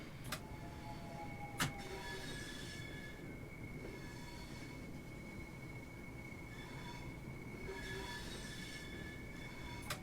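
Southeastern high-speed train braking in Train Sim World 2, with a steady metallic brake squeal and tonal whine over continuous rolling rumble, plus a couple of sharp clunks near the start.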